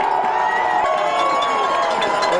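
A high school football crowd cheers and shouts for Bexley in the third quarter, a loud, continuous roar of many voices with children yelling, filling the whole stretch without a break.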